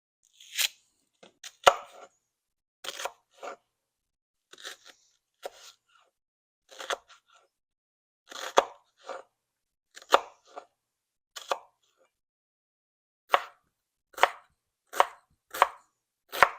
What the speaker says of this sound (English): So I have my carrots, potatoes, and onions cut.